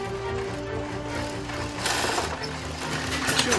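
A sewing machine stitches shoe leather, running steadily in a rapid, even mechanical chatter, close up, with the motor whining and the stitching rhythm briefly intensifying.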